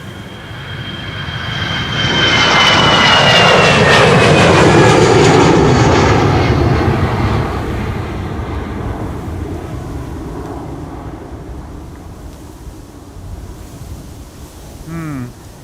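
A Vueling jet departs Amsterdam Schiphol for Alicante, its engine roar swelling loud and broad, peaking near the middle, then easing into a long fading rumble as the aircraft climbs away.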